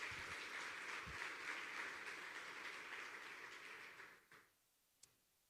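Dense applause from a church congregation during a Wednesday service fills the first four seconds, then fades quickly into near silence, with one sharp click near the end.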